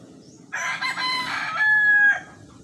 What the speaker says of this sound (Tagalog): ating manok, pumuputak